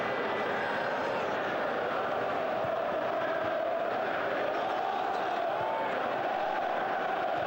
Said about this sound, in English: you can hear the Arsenal fans booing that decision